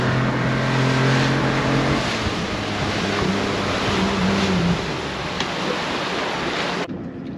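An outboard engine on a small fishing boat drifting over sandbanks runs with a loud, steady drone amid wind and wave noise, close by, before it cuts off abruptly at the end.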